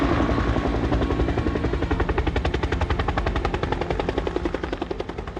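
A firefighting helicopter passes close by, its rotor beating in a fast, steady chop over a loud engine whine, the blade thumps sharpening and then easing slightly as it flies.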